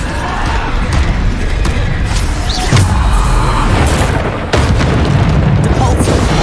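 Bombarda spell blasts in the video game Hogwarts Legacy, loud booming bursts with crashing debris over a dense, continuous game soundscape, a sharp impact near the middle and another just past the midpoint.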